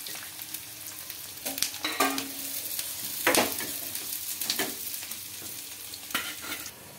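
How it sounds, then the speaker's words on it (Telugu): Onions frying in oil in a pan until browned for egg dum biryani, with a steady sizzle broken by several louder bursts as a spoon stirs and scrapes through them, close up with no talking. "ఇక్కడైతే ఆనియన్స్ అయితే ఫ్రై చేసుకుంటున్నానండి, బ్రౌన్ ఆనియన్స్ కోసం."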